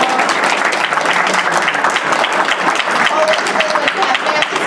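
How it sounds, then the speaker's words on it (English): Loud, close applause from an audience honouring legislator Solages at a State of Black Nassau County presentation, dense continuous clapping with some crowd murmur and faint voices mixed in. "I want us to give a round of applause to our legislator, Solages"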